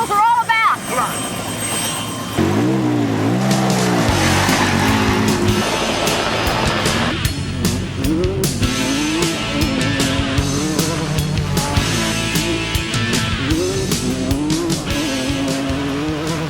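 Off-road race cars roar across desert trails, loud continuous engine drone with rising and falling revs, while a voice talks over the noise throughout.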